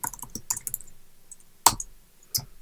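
Typing on a Mac computer keyboard: a few sparse, close key clicks with a couple of sharper, louder keystrokes, heard alone in a quiet room.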